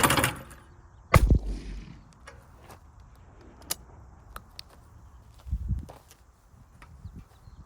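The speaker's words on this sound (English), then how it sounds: "Let's try it with a shotgun." A single shotgun blast fired at a clay target outdoors, a sharp, loud crack with a low boom early on, followed by faint clicks and small thuds and a softer thump later, with no voices.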